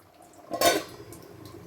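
A single metallic clink as a lid settles onto a pot of boiling crab gravy, a short bright clatter against quiet kitchen background.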